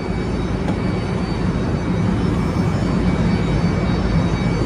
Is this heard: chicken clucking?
no